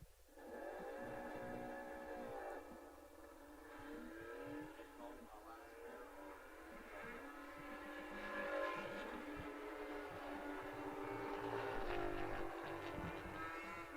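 Drag racing motorcycles at a championship meet, one a 1000cc Kawasaki, roar continuously at a distance with a rising engine drone that swells louder toward the end, with a commentator's voice faintly under it.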